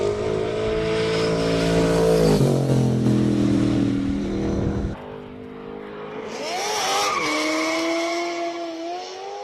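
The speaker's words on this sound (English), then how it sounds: "Glorious sound of a Ferrari." A Ferrari V8 race car at the Cape Town Speed Classic hill climb roars past nearby, engine note rising and falling through gear changes with a brief tire squeal, then fading before revving hard again further up the course.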